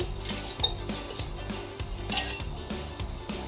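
Thick adai batter poured and spread across a hot pan: a soft continuous sizzle with light scraping and occasional metallic clinks of the utensil, close and moderately loud.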